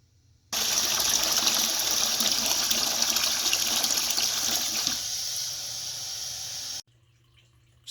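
Steady rushing gush of water draining from the valve of a gas water heater, loud and continuous for about six seconds, easing slightly near the end before stopping abruptly; no talking.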